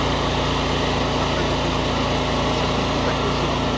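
A newly gifted generator runs on its first start, its engine droning loud and constant at close range with a steady buzzing vibration and no breaks.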